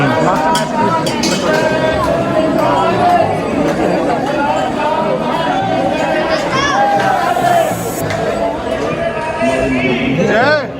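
Dense crowd murmur at the Khatu Shyam temple, with voices overlapping into a steady close hubbub and scattered light clinks, continuous and loud throughout.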